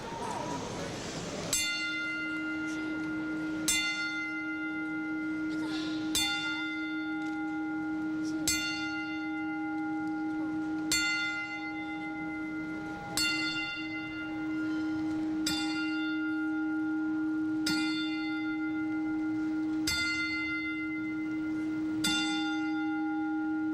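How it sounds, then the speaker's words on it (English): A church-style bell struck ten times in a memorial tribute at a WWE event, slow evenly spaced strikes whose long ringing tones sustain and overlap in a hushed room. "we will ring the bell 10 times"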